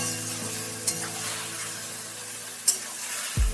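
Pieces of boiled elephant-foot yam fry in hot oil with a steady, close, hissing sizzle throughout, broken by a few brief scrapes of a spatula as they are stirred.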